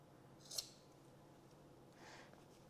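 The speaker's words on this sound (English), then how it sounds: "So I'm going to cut a line like this" Scissors snip through fabric while trousers are cut out for sewing, one crisp faint snip followed later by a softer slicing cut in a quiet room.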